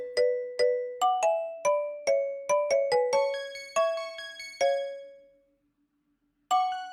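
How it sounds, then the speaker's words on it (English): Phone ringtone in the video game Variable Barricade: a bright chiming melody of bell-like notes, loud and close, playing a run of tones, falling silent for about a second, then starting again, with no voices. "Silly ringtone"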